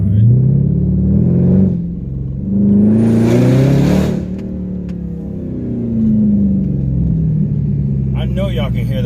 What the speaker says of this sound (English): I know y'all can hear that whine,